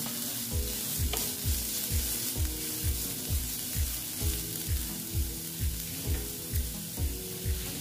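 Carrots fry with onions in a pan, giving a steady close sizzle under a rhythmic, regularly repeating low thumping pattern that runs right through.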